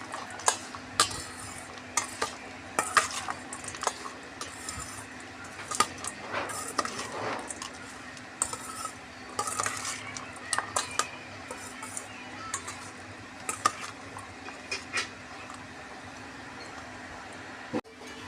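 Aloo kabli ingredients, potatoes with crushed chilli, get mixed together in a bowl, with soft intermittent scraping, clinks and squelchy stirring, close and fairly quiet.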